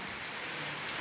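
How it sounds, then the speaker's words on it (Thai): Light rain patters steadily, a soft, even hiss of drops with no pauses, heard quietly outdoors without any voices. "ตอนนี้เสียงรบกวนหน่อยฝนตก รินรินแล้วครับ ตกมาแล้ว"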